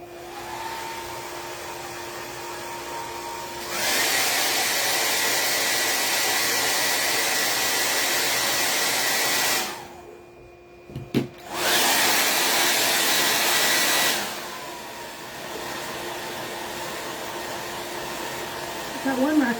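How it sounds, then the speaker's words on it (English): A handheld blow dryer runs loud and steady over a wax-coated patriotic star craft project, cutting out briefly midway and then starting again with a short clatter before fading to a lower hum. "now I'm going to carefully take the blow dryer to this"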